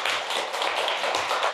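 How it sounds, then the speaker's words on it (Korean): Clapping from an audience at a tax seminar lecture, a dense, steady patter of many hands close by, even in level throughout with no speech. "이럴 때 박수 한 번씩 쳐는 거예요."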